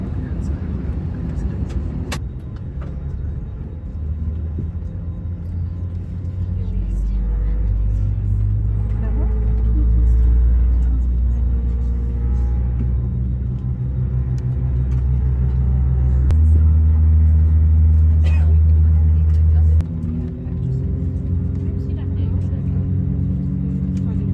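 Airbus A321neo cabin during pushback on a Jetstar flight from Bali to Melbourne, a steady low engine and ground rumble that swells midway and shifts pitch, with talk underneath.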